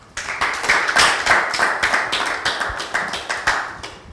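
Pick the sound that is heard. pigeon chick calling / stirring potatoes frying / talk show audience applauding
talk show audience applauding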